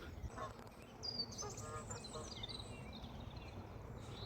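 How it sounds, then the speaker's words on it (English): Canada geese arriving along a canal honk in a cluster of calls that rise in the middle, heard at a distance over outdoor wind and rumble. "Canadian geese arriving,"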